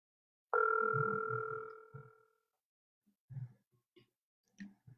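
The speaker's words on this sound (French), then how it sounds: "ça sonne" A single long electronic ringback tone sounds on an outgoing telephone call, clear and steady for about two seconds, followed by faint breathing and small handling noises.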